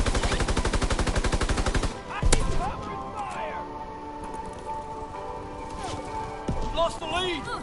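Rapid automatic gunfire from a PS4 shooter opens loud and rhythmic for about two seconds, then gives way to scattered shots and game effects, with voices talking over it.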